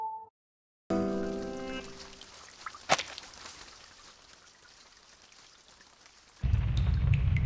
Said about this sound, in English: It's the rain! It's raining outside!